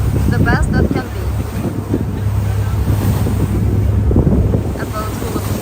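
Steady wind buffets the microphone on a boat on open water in New York, with the low rumble of surf and an engine hum underneath, and a few faint voices.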